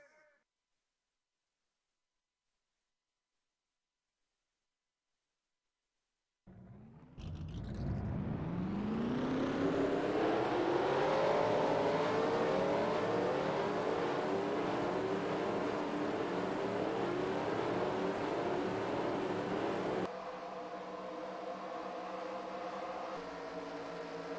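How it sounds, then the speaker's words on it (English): Stock cars in a racing video game start up at the Kansas racetrack after near silence, then hold a loud, sustained whining engine drone that steps down in level near the end. "Drivers, start your engines!"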